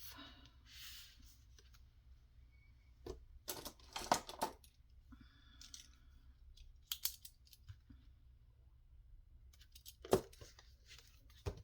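Paper being cut for an ephemera journal pocket: scattered close snips and crisp rustles, sparse and irregular, with brief louder cuts and quiet gaps between them.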